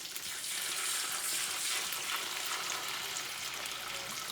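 Steady, crackling sizzle of chicken wings frying in hot oil, continuous and fairly quiet, with no one talking.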